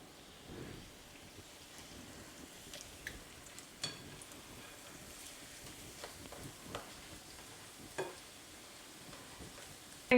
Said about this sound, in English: I'm gonna fry these for 3 to 5 minutes per side or so.